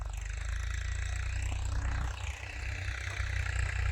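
A tractor engine in a farm field at pea sowing time, a steady low chugging drone that holds near and fairly constant with a slight dip midway, no talk over it.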